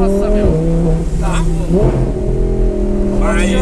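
An Audi R8 sports car engine drones loudly with steady harmonic tones that shift in pitch as it revs, running continuously under people talking.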